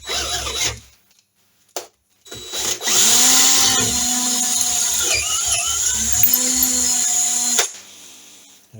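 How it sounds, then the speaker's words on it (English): Drill boring out an existing hole in a part on a Norton Commando 850 MKIII motorcycle, a steady loud whirring grind that runs for several seconds after brief silent gaps, then cuts off. "my only real worry is that the drill will seize because it's so close in diameter to the existing hole."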